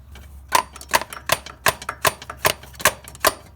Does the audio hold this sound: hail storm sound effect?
no